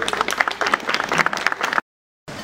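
An indoor audience at a community iftar event in Zeytinburnu breaks into dense, steady applause that carries for nearly two seconds before abruptly cutting to silence, then resumes briefly.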